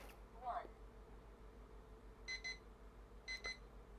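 A PERSUPER digital timer alarm sounds in two short bursts of rapid, bright electronic beeping, each about a quarter second long and roughly a second apart, following an earlier faint chirp over a quiet room hum.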